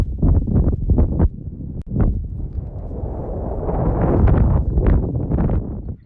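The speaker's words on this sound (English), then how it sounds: "there's real windy up here. It's probably like 40-50 mile an hour gusts" Strong wind of roughly 40-50 mph buffets the microphone high on Mount Elbert, Colorado, in loud, roaring gusts that swell and fade, rising to a sustained rush near the end.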